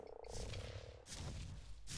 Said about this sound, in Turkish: Ve Tolga minicik kurbağayla neler yaptı